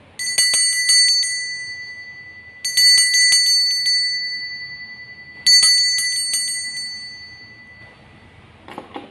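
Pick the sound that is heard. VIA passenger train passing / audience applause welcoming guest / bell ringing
bell ringing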